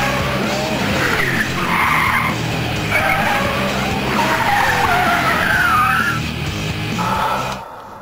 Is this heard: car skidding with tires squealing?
yes